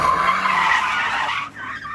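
A race car skids and spins out in a racing video game, a loud sustained tire screech that holds for over a second, then breaks off into shorter squeals.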